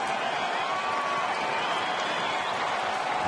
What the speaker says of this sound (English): Crowd trying to get behind Scherzer here with 2 outs.